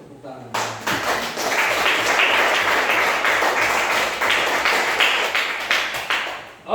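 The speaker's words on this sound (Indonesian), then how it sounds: "Ya, kita kasih tepuk tangan" Group of students clapping in a classroom lesson, a steady burst of applause lasting several seconds after a short pause, fairly close and loud, with some voices mixed in.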